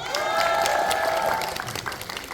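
Audience applause during a film cast stage greeting at a Lotte Cinema theater in Suwon, a dense steady burst of clapping from a packed room that fades slightly toward the end, with faint cheers mixed in.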